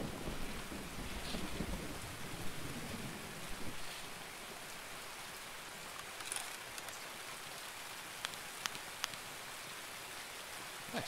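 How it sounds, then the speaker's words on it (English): Steady rain pours through a stormy game map in Escape from Tarkov, with rumbles of thunder early on and scattered sharp drops and clicks, continuous and close throughout. "But it is raining, so just bear with me."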